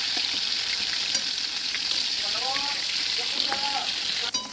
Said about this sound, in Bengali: আমাদের তেলটা গরম হয়ে গেছে, আমরা এক করে পটল দিয়ে দেবো। আমরা হাত দিয়ে দিই পটলগুলো ভেজে দেবো।